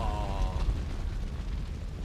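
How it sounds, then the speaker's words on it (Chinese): A car blows up in the video game Resident Evil 2 after a crash leaves it leaking fuel: a deep, loud booming rumble that rolls on steadily for about two seconds, with a brief voice cry at the start. "大爆炸！"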